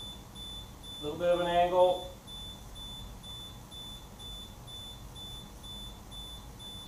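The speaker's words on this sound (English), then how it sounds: "My beeper's driving me nuts." An electronic beeper sounds a quick series of tones for about a second, fairly loud, over a faint steady high whine, while someone talks.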